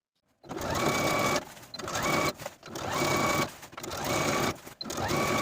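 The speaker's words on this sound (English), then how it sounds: "we're going to sew once again all the way around, a 1/4 inch away from the raw edge" A sewing machine stitches a casing around a fabric edge a quarter inch from the raw edge, running in steady loud bursts with short pauses between runs and no voices.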